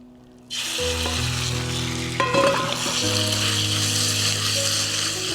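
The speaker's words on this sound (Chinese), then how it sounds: "现在呢，加上冷油， 把牛肉放进去。" Beef sizzles and fries loudly in cold oil poured into a preheated pan, a steady close crackle that starts abruptly and carries on with some stirring clatter.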